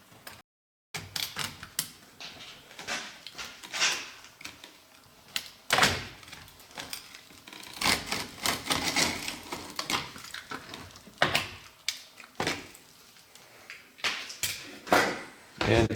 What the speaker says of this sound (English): So I'll go ahead and make that notch in the shingle now.